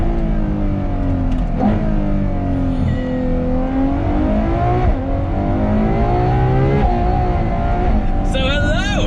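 A Ferrari F12 TDF's V12 engine roars close by on Scottish driving roads, revving and dropping through downshifts with rising and falling pitch, loud and continuous with some talk underneath.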